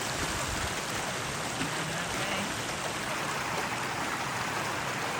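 A mountain waterfall in the Sawtooths pouring down rock into a shallow slide of water, a steady loud rushing hiss throughout, with a brief voice near the start.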